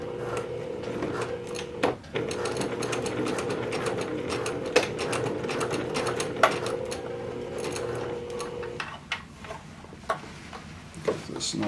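A sewing machine runs while pants are sewn from a Simplicity pattern, humming steadily with brief stops and clicks of fabric handling, then a looser mechanical rattle toward the end.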